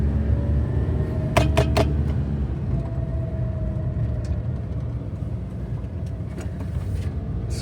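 A Suzuki Jimny JA22 driving along a road, a steady close engine and road rumble with a few sharp knocks early on, no talking.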